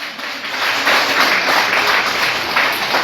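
Applause from a church congregation fills the space, a dense, steady wash of clapping from many hands that rises quickly and holds for a few seconds, with no speech.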